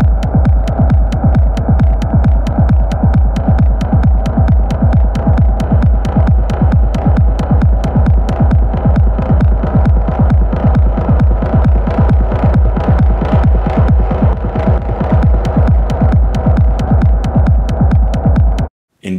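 A modular synthesizer plays a techno rumble built from a mix of kick and percussion. It is a loud, dense, low throbbing drone that pulses steadily without pause until it cuts off at the very end.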